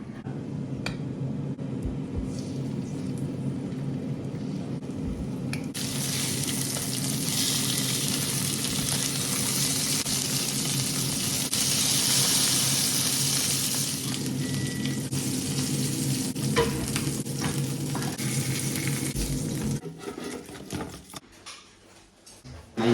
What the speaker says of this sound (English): to fry them, we're going to use some of the fat that we've saved from our pork joints, and they're going to go in the pan